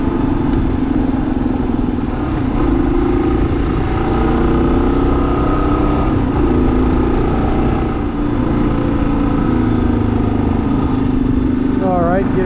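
A 2023 Kawasaki KLR 650 motorcycle rides along a gravel road, its engine droning loud and steady with wind and road rumble throughout, gears shifting faintly near the end.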